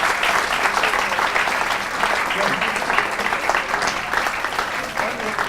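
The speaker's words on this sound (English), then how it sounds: "Let's give Rebecca and these three wonderful Buchenwald boys another round of applause" Sustained applause from an audience honouring Buchenwald survivors, a steady, even wash of many hands clapping close up, with no pauses and no voices standing out.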